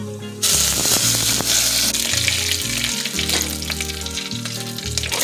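Curry leaves sizzle loudly in hot coconut oil along with mustard seeds, fenugreek and broken dried red chillies, a steady crackling fry with sharp pops, close up and continuous with no talking.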